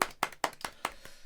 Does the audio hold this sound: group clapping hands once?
yes